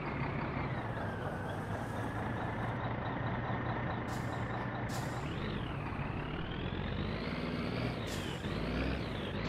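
A truck in the video game My Summer Car grinds through a three-point turn, its engine drone steady and loud throughout while it rises and falls in pitch as the gears shift, with faint high beeps on top.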